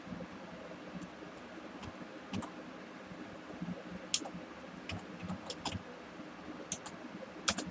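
Typing on a computer keyboard in a quiet room, scattered soft key clicks coming in short irregular bursts at close range, with no talking.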